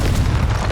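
A loud, close blast from the Confringo fire spell in Hogwarts Legacy, fired at a troll: one dense, booming burst that fills the whole clip with heavy low rumble.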